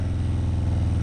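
A motorcycle engine hums in a steady, even drone on a ride in the rain, close and constant with no voices.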